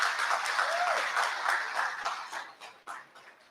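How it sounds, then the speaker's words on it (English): Applause at a gala dinner fills a large room as a dense, steady wash of many hands, then thins into a few scattered claps as it fades out. "Round of applause for them."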